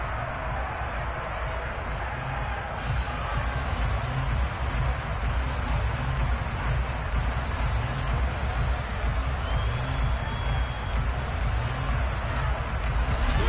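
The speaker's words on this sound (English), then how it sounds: "now the home team crowd, they are fired up." A home team crowd at a football game roars in a steady, dense wash of cheering and noise that fills the stadium from start to finish, loud and sustained.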